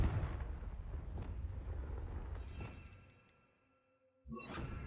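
A Confringo fire spell blasts in Hogwarts Legacy: a loud, rumbling explosive roar sustains and fades to near silence, then a fresh burst of crackling impact noise erupts at the end.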